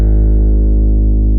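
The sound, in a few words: harp bass strings played without effects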